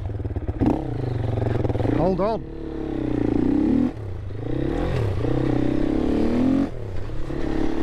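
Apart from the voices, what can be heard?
Herald Brute 500 single-cylinder motorcycle engine and exhaust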